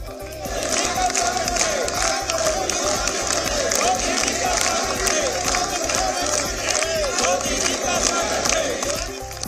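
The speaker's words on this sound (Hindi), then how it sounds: "हॉल में मौजूद सभी बीजेपी सांसदों और मंत्रियों ने तालियां बजाकर उनका स्वागत किया" BJP MPs and ministers in a hall clap continuously in welcome for PM Modi, a steady dense roar of applause with crowd voices and chanted slogans mixed throughout.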